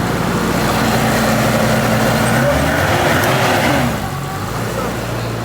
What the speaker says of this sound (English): That's a smooth engine.